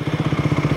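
An Aprilia sport motorcycle's engine runs with a fast, steady pulsing throb, close and moderately loud, across a brief stretch.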